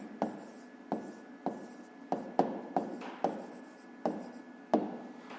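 Pen writing a math answer by hand on paper, a series of short scratchy strokes with sharp starts, close and fairly quiet, with no talking.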